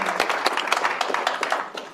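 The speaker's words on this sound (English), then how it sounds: "So if you just give them a round of applause." Audience applause with dense overlapping clapping at a Zimbabwe election-themed event introducing an independent parliamentary candidate; steady and fairly close, lasting the whole short stretch before thinning slightly at the end.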